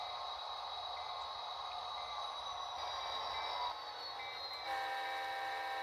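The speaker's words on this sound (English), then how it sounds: "NS 3057 is going to back down there with 3 full open 3-bay NS hoppers full of granite chips" NS 3057 locomotive backing down with three loaded open three-bay hopper cars full of granite chips, giving a steady rumbling rail drone with sustained tonal whine throughout.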